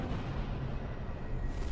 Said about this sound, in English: That's not an explosion so much as an implosion.